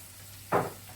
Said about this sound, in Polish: Pokrojoną cebulę dajmy teraz na patelnię, ładnie z skierczy, czyli tłuszcz jest wystarczająco nagrzany